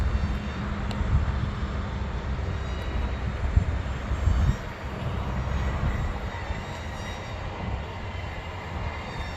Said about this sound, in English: Yeah, fun plane. I'm gonna bring it down.